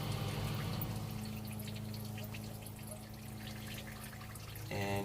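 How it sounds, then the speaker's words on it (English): Water poured into a boat engine's water pump during winterizing, a continuous steady pouring and trickling flow with a low mechanical hum beneath, louder again at the very end. "what you're doing is you're pouring water down into your water pump"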